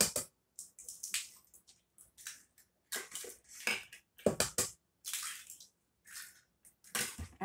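Eggs go into cake batter in a mixing bowl for an Oreo cookies and cream bundt cake, heard as a run of short, close clinks, taps and wet squishy knocks separated by brief pauses.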